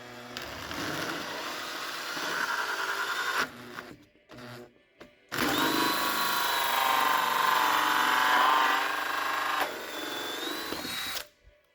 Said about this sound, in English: So with the dash marked, we'll let Ali G cut it out.